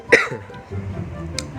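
A single short, sharp cough bursts out near the start, close and loud, followed by quiet low background murmur.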